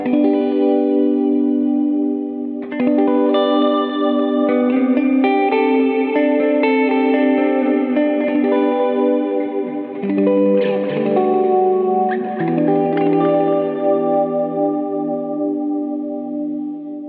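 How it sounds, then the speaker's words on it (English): Electric guitar played through a Mercury7 ambient reverb pedal on a full pedalboard, with modulation off: sustained, layered chords and notes bloom into a big, deep wash of reverb, restruck several times and ringing continuously without talk. "just such a nice reverb."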